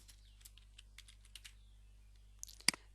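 Soft, sparse keystrokes on a computer keyboard while code is typed, scattered light taps at an irregular pace, ending in a sharper, louder clack or two, with no talking.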